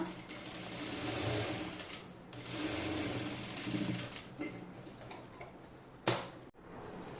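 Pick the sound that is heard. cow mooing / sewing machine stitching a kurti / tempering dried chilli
sewing machine stitching a kurti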